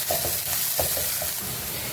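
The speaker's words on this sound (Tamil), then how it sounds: "ஒரு கொத்து போல் கருவேப்பிலையும் சேர்த்து நான் வதக்கிக்கிறேன்." Onions and curry leaves sautéing in a pan for mushroom chukka, a steady close sizzle with soft stirring scrapes running through without any talk.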